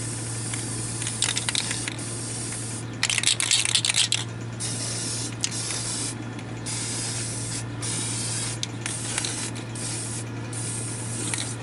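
Aerosol candy paint sprayed onto a JQ Racing RC car body, a steady close hiss running throughout with a few brief louder bursts and a constant low hum behind it.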